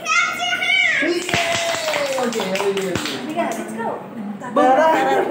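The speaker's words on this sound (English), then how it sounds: "Everybody, clap your hands." Children clap their hands in sharp, scattered claps while kids talk and call out between them, close and lively during a game of marbles.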